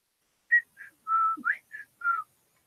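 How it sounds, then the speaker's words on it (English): A person whistles six short notes at varied pitches, including one quick upward slide, during an indoor live drawing stream. The whistling is close and clear against silence, with no talking. "I can't whistle today either."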